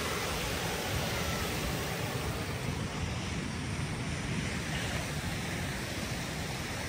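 Steady, loud rush of water on the bank of the Dnieper River, a broad continuous roar like a strong current, with no voices.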